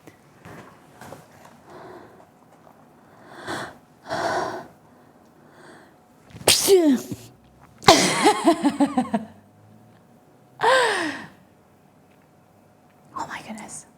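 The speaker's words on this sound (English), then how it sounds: "I need to sneeze." One person builds up to a sneeze with several sharp, gasping inhales, then lets out two loud, abrupt bursts close to the microphone, with quieter breathy sounds afterward.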